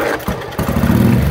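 A 1956 Velocette Viper 350cc motorcycle single-cylinder engine kicked and catching, a brief thump followed by a loud, close, steady idle putter.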